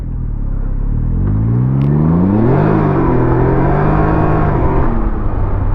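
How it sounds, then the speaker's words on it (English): Six-cylinder Ford Mustang driving close behind on the road, a loud steady engine drone that swells and rises in pitch as it accelerates, heard without speech. "Oh, what's this? A little Mustang behind us?"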